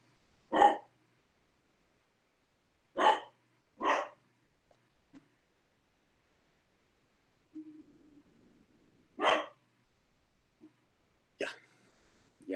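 A dog barks indoors during an online chemical thermodynamics lecture, several sharp, separate barks with long quiet gaps and a faint whine in between.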